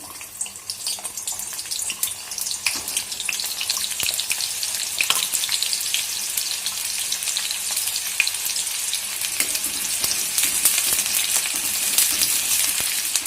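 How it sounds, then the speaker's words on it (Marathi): Onion dropped into hot oil for a mutton vajadi dish, giving a loud, dense, continuous sizzle that stays bright and close throughout, with scattered pops and no talking. "हे बघा हे तेल आपलं तापलेलं आहे आता त्यात कांदा टाकू आपण"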